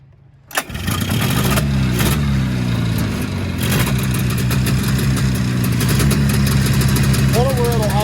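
An Arctic Cat Jag 3000 snowmobile engine, a barn find, fires up after a brief quiet moment and then runs at a loud, steady idle with slight throttle changes and a faint rise near the end, heard close up.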